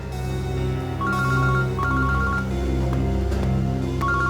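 Phone ringing close by in a tense indoor scene, an electronic ringtone repeating in short bursts over a steady low background hum.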